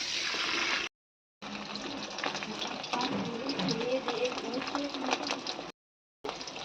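Pumpkin greens get rinsed under running water in a village kitchen, a close rushing splash that cuts off twice in brief gaps, with faint swishing of the leaves in the flow.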